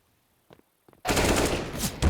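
Automatic AK rifle fire and Desert Eagle pistol shots in a tactical shooter match, starting abruptly after two faint brief sounds and continuing as loud, dense gunfire to the end.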